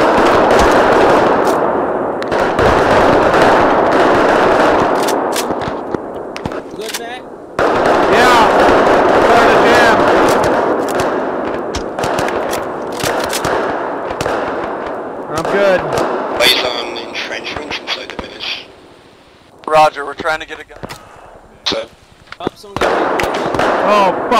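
An aircraft gun run in ArmA III, set in a Vietnam War campaign, rattles out in dense, loud bursts of rapid gunfire and popping impacts, with voices shouting over the din.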